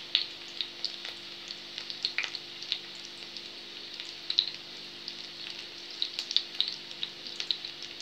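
Corn frying in hot oil: a steady, quiet sizzle with scattered light pops and crackles throughout, plus a faint low hum.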